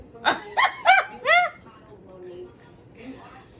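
A dog gives four quick, sharp barks close by, followed by quieter murmuring sounds.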